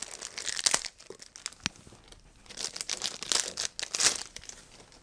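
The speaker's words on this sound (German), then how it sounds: "so, ich werde jetzt hier erstmal alles auspacken" Tritton PRO+ 5.1 surround headset being unpacked, with close crinkling and crumpling of plastic and paper packaging in irregular bursts, some louder rustles and a few tearing sounds, no talking.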